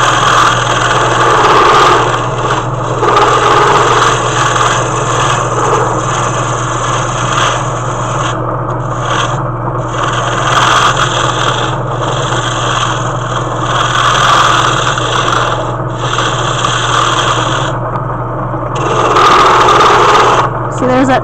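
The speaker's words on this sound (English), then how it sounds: "See, there's that chattering." Wood lathe turning a pen blank, a steady high motor whine with a low hum, rubbing tool contact and intermittent chattering bursts throughout; speech is likely mixed in.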